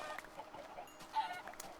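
Chickens in the Minecraft video game give short, soft clucks, a few quick scattered calls over about two seconds, fairly faint with no talking.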